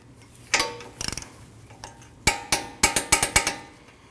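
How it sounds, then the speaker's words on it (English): Sharp metallic ratchet clicks from a torque wrench tightening the lower ball joint bolt on a 2013-2019 Ford Escape front steering knuckle: a few scattered clicks, then a quick run of five or six, close and crisp with no talk. "You can torque your lower ball joint bolt at 61 foot-pounds."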